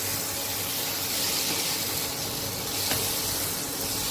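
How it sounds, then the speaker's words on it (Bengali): Young jackfruit pieces dropped into hot spice paste in a pan, giving a continuous loud sizzle and hiss with steam, steady throughout with no voices. "এবার আমি ইঁচড়টা দিয়ে দেবো। দিয়েও কিছুক্ষণ কষিয়ে আমি জল দিয়ে দেবো।"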